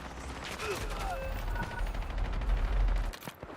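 Gunfire in Call of Duty Warzone / Black Ops 7, rapid bursts of automatic shots crackling close and loud over a few seconds, with game sound mixed in.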